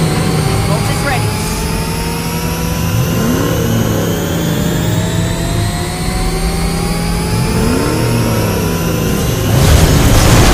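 Car engine revving in the Mobile Legends video game, a loud, close, steady motor drone that rises in pitch, layered with game effects.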